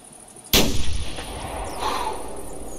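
Bow shot at an archery range in the hunting video game theHunter Classic: a single sharp, loud release and impact with a short ringing decay, then quiet ambience.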